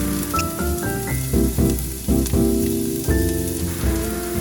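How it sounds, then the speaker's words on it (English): Shallots sauté in olive oil in a large pot over medium heat, giving a steady, soft sizzle beneath louder background music with plucked notes. "Add in all your shallots and cook in medium heat."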